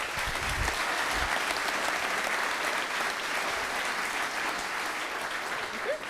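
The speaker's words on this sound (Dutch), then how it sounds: "Mag ik een hartelijk applaus voor de teamleider Irene van den Hof." A crowd at a Solar Team Twente design presentation gives warm applause, a dense, even wash of clapping lasting about six seconds without a break.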